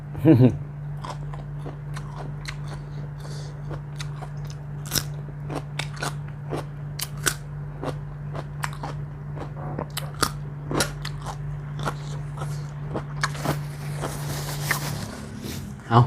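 Crunchy Thai papaya salad dressed with fermented fish sauce being eaten up close, with repeated sharp crunching bites and chewing at an irregular rhythm over a steady low hum, with no talking.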